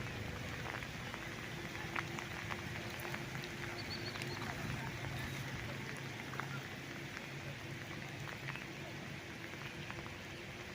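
Rain falling outdoors near a rice field by a highway in Pila, Laguna: a steady, moderately faint patter and hiss that continues throughout the clip.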